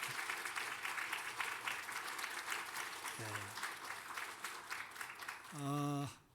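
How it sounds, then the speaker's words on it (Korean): Church congregation at a worship service claps steadily for a visiting councillor couple, even applause throughout with a short spoken phrase midway and a voice rising near the end. "우리 지역을 위해서 열심히 일하시는 또 박수하십시오"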